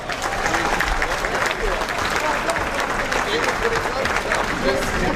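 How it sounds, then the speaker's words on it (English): A banquet hall full of people clapping steadily, a dense, sustained applause from a large crowd that keeps going without a break. "Please give them a round of applause."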